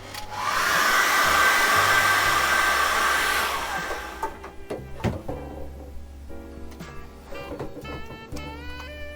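A hair dryer blows loudly for about three seconds to dry acrylic paint on a jellyfish painting, then switches off, leaving scattered light clicks and handling knocks.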